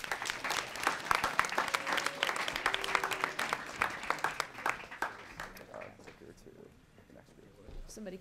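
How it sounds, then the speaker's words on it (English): Audience at a student startup pitch finale clapping steadily for several seconds, dense applause that thins out and fades toward the end, with a voice faintly over it. "let's give him a round of applause"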